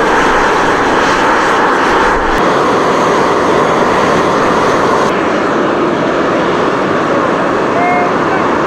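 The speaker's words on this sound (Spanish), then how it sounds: "El sonido que emite la salida de vapor" Steam vent at Yellowstone hissing loudly and continuously, a broad rushing roar that holds steady throughout, close and strong.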